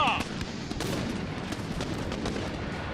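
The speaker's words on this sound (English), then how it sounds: "I love it when they get a good volley off." A musket volley from line infantry in the Empire: Total War game cracks in a burst of overlapping gunshots, then a rolling, crackling tail of scattered shots and battle din at moderate volume.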